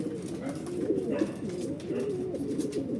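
Racing pigeons coo steadily and close by after a race toss, a dense overlapping low burble that runs continuously through the whole stretch with no pauses.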